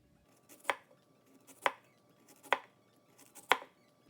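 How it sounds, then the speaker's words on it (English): A knife slices a sweet potato into thin rounds, four crisp evenly spaced cuts, each a short sharp thunk on the board, close and clean with quiet between strokes. "Our beautiful sweet potato is sliced"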